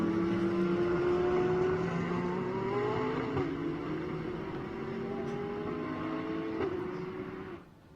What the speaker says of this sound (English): Racer's Edge Acura making the way through Hurry Downs.